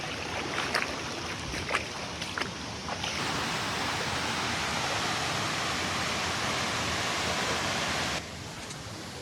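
A waterfall roars as a steady, dense rush of broadband water noise, loud and close, with a few splashy crackles early on and a slight drop in intensity near the end.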